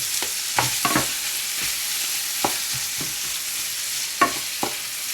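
Onions and garlic sizzle in a pan for a tomato bolognese sauce, a steady hiss of frying under several sharp scrapes and knocks of a spoon stirring, up close with no talking.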